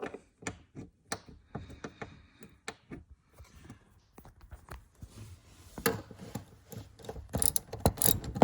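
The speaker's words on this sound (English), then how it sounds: "And put the bolts back in." A ratchet clicks in short, irregular bursts as bolts are tightened back in, close and crisp, growing busier and louder near the end.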